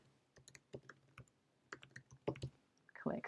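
Fingers tapping out a custom domain name on a computer keyboard, an uneven run of quick, close clicks in short bursts with brief pauses, no talking.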